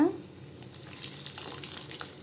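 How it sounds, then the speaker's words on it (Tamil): Tamarind water poured into a pan of okra gravy, a steady close splashing trickle that runs for a couple of seconds at moderate level, with no talking. "புளித்தண்ணி சேர்த்துக்கலாங்க"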